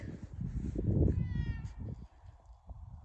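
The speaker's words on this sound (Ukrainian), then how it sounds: "Хто там мяукає?" A house cat meowing outdoors on a winter farmstead, a couple of drawn-out calls close by and fairly soft, with quiet background afterward.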